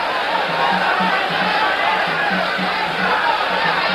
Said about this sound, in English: The crowd responds to Escalera's resurgence in the last 2 rounds with cheering, concerted cheering.